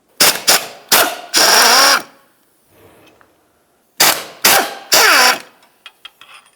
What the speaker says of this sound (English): Now we can start removing some of our mounting bolts for this.